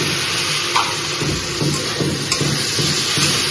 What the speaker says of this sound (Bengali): আদা বাটা দিয়ে দিলাম